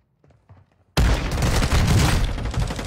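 Shotgun blasts in a video game come in as a sudden loud burst that stays dense and sustained, almost like a volley of rapid gunfire, after a quiet stretch with faint low sounds.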